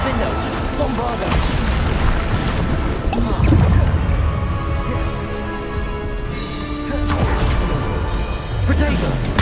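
Bombarda explosion spell from the wizarding video game Hogwarts Legacy, booming blasts and crashing debris layered in a dense, loud battle mix alongside other spell effects and combat noise.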